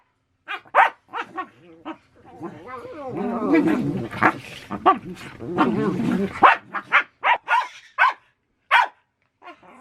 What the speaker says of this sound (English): So we're starting with rowdy dogs.